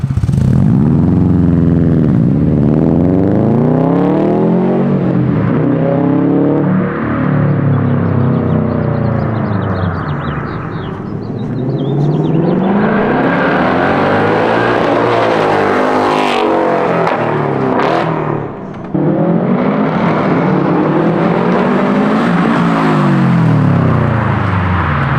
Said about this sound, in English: It's got that nice Subi rumble.